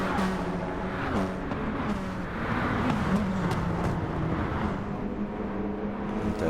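Racing cars in a Gran Turismo 7 race run side by side in a drag race, with steady, droning engine noise that rises and falls in pitch, fairly loud and continuous, with no talk over it.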